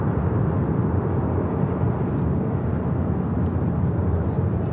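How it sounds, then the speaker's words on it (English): A Boeing 787-10 Dreamliner taking off at LAX bound for Tokyo Haneda, a steady loud broadband engine roar with deep rumble, continuous and unchanging throughout. "taking off to Tokyo Haneda on the 787-10 Dreamliner"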